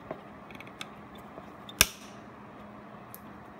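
A capacitor lead snipped off with cutters during repair of a Panasonic FM15E6 ceiling fan, heard as one sharp, close click over faint background hiss, with a few softer ticks around it.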